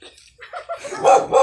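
A dog barks several times at close range, short sharp yaps that grow louder toward the end, with no talk over them.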